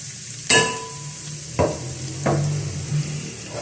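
Grated carrot tipped into hot oil in a pan and stirred, with a close burst of sizzling at the start and a few more scraping stirs over a steady frying hiss.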